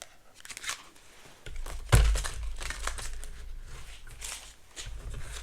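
A deck of playing cards shuffled by hand in a few quick rustling, riffling bursts, close and moderately loud with no talking.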